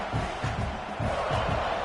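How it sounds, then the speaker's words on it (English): A football stadium crowd roars steadily in the early going of a game, a dense sustained wash of cheering and shouting with pulsing swells, heard at a distance. "Listen to the crowd energy here in the early going."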